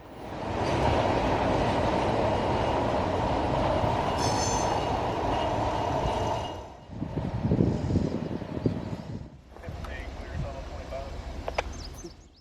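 A loaded southbound freight train passes close by with a loud, continuous roar and wheel squeal, then the sound drops and continues more faintly with clicks and rattles. A voice is heard briefly.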